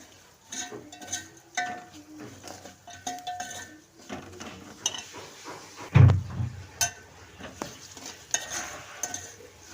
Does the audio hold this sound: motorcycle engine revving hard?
no